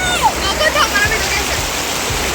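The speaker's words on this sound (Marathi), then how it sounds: "आहे नर्मदा नदीच्या सहस्र वॉटरफॉल, जिथे ना सहस्र धबधबा या ठिकाणी" Sahasra waterfall on the Narmada river, a steady rushing roar of falling water heard close, with a voice speaking over it and a few low thumps.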